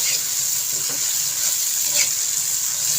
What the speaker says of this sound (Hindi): तो इसी टाइम हम इसमें टमाटर और सब्ज़ मिर्च और अदरक का पेस्ट ऐड कर देंगे। इसे भी आधे मिनट तक के लिए इसे भी भून लें अच्छी तरह से।